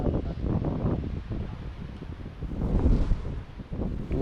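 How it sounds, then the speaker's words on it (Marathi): Strong wind gusts across the Konkan coast before rain, roaring and buffeting the microphone in uneven surges, with rustling underneath. "पाऊस येता की काय कसला वारा सुटला बघा"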